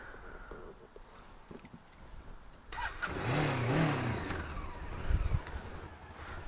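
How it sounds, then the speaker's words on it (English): A motorcycle engine, heard during a trip to the Sammy Miller Motorcycle Museum, cranks and catches quickly. It then revs up in a rising and falling roar at moderate distance, followed by a couple of sharp throttle blips. "That's a sign of a lively bike, isn't it, when it just fires up so fast."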